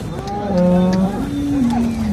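A cow moos at a cattle market in Sangola, a long, loud, close low call with a falling pitch, with faint voices in the background.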